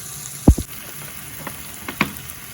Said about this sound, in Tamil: வெங்காயம் சரியா இது எல்லாத்தையும் போட்டு ஒரு ஒரு நிமிஷம் இதை வதக்குவோம்